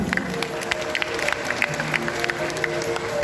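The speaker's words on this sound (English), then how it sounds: "A warm round of applause," Audience applause at a Christmas ballet show, a steady crackle of clapping from a crowd in the hall, moderately loud and continuous throughout with a faint murmur underneath.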